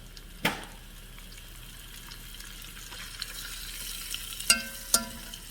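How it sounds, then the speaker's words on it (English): Ground meat sizzles in hot vegetable oil in a pot for chili con carne, a steady close frying hiss with a few clanks and stirring knocks, no speech. "add the meat. All right, I'm just going to put it all in and just cook it this way."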